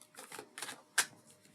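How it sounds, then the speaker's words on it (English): A tarot card deck is shuffled in three quick riffling bursts, close and crisp, the last ending in a sharp snap of cards. "I'm going to do 3 shuffles here."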